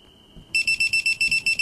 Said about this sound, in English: It's just gonna go beep beep beep beep beep beep beep beep beep.